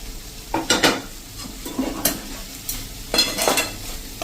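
A spoon scrapes and clatters against a pan as vegetable masala with fresh coriander is stirred, giving several bursts of scraping over a soft sizzle, close and fairly loud, with no talking.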